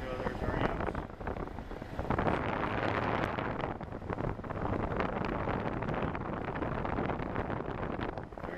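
The condenser fan motor on a Kelvinator ice cream cake case runs with a steady rushing whoosh of moving air, close and continuous, with someone talking over it.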